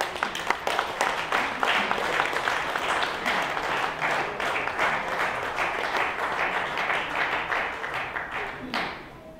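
Audience applause at a teaching excellence awards ceremony, a dense, steady wash of many hands clapping that holds loud for about nine seconds, then tapers off near the end.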